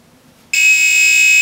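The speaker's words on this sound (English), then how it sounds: "it's gonna beep." An Arduino adjustable countdown timer gives off a loud, steady electronic beep as its countdown ends. The tone begins abruptly after a short quiet pause and holds continuously without breaks to the end.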